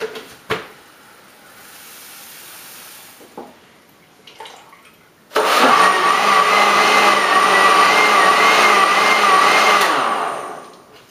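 A blender mixing powdered milk and water roars loudly and steadily for several seconds, its motor whine holding constant, after some quieter clinks and handling sounds at the start.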